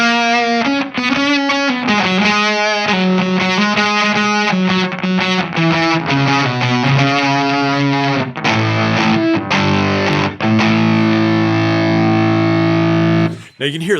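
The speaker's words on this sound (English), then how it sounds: "I have another little pedal called the Dan Drive Bonk Machine" An electric guitar runs through a Dan Drive Bonk Machine effects pedal alone, giving a thick, distorted, darker tone as loud riffs and chords ring out, closing on a long sustained chord.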